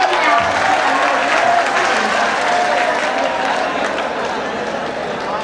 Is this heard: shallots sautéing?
no